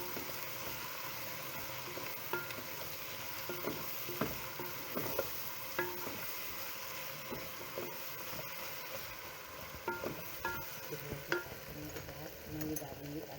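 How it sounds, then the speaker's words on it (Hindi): Whole garam masala spices crackle and sizzle in hot oil, with soft stirring scrapes and occasional pops throughout, close and steady. "इसको थोड़ा फ्राई करेंगे"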